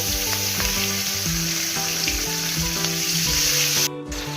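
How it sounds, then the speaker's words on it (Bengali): Steady, loud sizzling of five-spice, whole green chillies and ground cumin paste frying in oil in a wok, with a low hum underneath and a brief cut near the end. "মশলাটা ভালো করে কষিয়ে নেব।"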